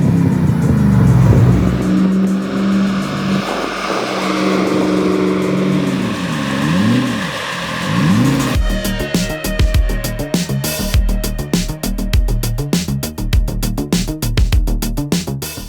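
A 1991 Land Rover Defender 110 with a 6.2 LS3 engine and 5-speed manual revs loudly, its pitch climbing and falling in repeated swells, then gives way to a rapid, choppy pulsing sound.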